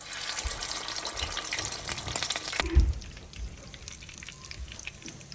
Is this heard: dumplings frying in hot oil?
yes